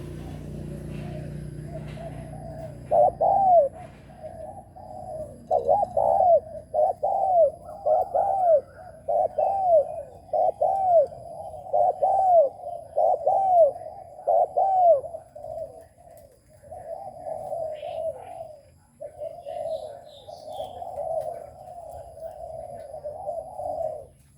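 A trained spotted dove coos in a repeated rhythmic series of soft, hollow, rolling calls. The calls are close and clear over a quiet background.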